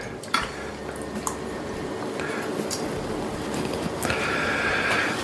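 Cocktail glassware is rinsed quickly with splashing water and light clinks of glass at a home bar, close and continuous for a few seconds.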